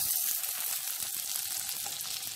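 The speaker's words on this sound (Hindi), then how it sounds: "बटर को मेल्ट होने देंगे।" Butter melting in a pan while pasta in white sauce is being started gives off a steady, dense sizzle and crackle. It is close and fairly loud, with no voices over it.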